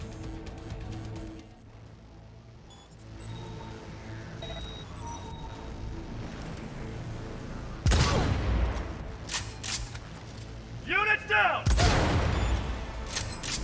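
Gunfire from a favoured weapon in the video game Cyberpunk 2077, heard as two loud, sharp bursts of rapid shots over quieter in-game ambience.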